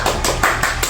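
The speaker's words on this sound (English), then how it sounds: "laugh track and clap track here." An added clap track of applause, a short burst of a few sharp hand claps in a quick uneven rhythm, close and alone.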